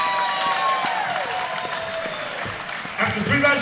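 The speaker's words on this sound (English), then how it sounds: "another fantastic round of applause" Crowd applause and cheering for two fighters at the end of a Hardknocks fight night bout in Onehunga, a dense steady clapping wash with whistles and shouts, with an announcer's voice rising over it near the end.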